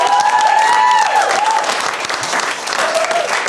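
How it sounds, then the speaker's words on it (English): An audience claps loudly at a live comedy and music show, a dense, sustained wash of applause from close by, with a few voices calling out over it. "Give them a round of applause,"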